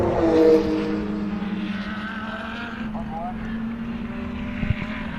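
GT race car running down a long back straight toward a turn, its engine a steady droning whine with a second car's note rising briefly, heard under continuous race commentary.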